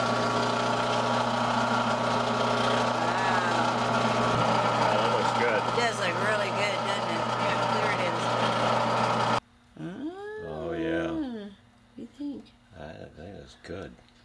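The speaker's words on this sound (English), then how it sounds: "I was going to turn on the lathe" A lathe buffing an acrylic camera dome for an ROV hums in a steady motor drone with whirring overtones for about nine seconds, then cuts off. Someone talks over the machine and keeps talking after it stops.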